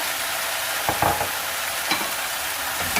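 Chicken and broccoli sizzle loudly in a hot pan, with a steady fry punctuated by a few tossing and stirring scrapes, no talk.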